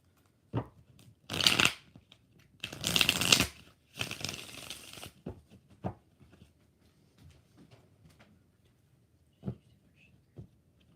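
Tarot cards shuffled in several quick riffling bursts, close up, followed by a few soft taps and handling sounds in an otherwise quiet room.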